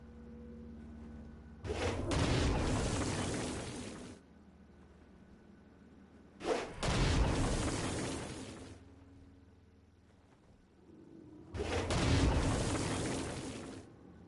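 Three blasts from the Stone Blast power in Saints Row: Gat out of Hell, each a heavy booming burst with a rumbling tail, spaced a few seconds apart over a low background hum.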